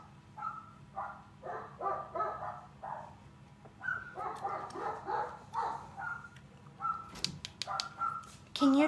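Several dogs bark repeatedly outside, moderately distant, in an uneven series of yaps and barks that continues throughout with a few sharper, closer barks near the end.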